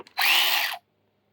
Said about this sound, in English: I can run my 12 volt DeWalt batteries on my Mac cordless ratchet.